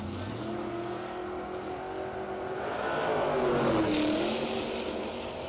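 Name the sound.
1967 Camaro and 1994 Camaro drag racing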